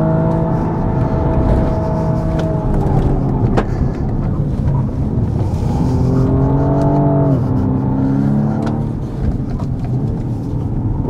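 A 2022 BMW 235i Gran Coupe with all-wheel drive accelerates hard out of a curve, its engine climbing loudly through rising revs with a brief shift dip, close and steady throughout with no talk.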